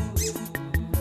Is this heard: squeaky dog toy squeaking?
yes